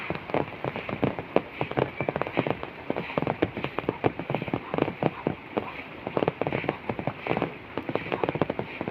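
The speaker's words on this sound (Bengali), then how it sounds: "সব দিকে বৃষ্টি হচ্ছে" Steady rain pattering on a hard surface in a village courtyard, with dense irregular drops and occasional louder splashes throughout.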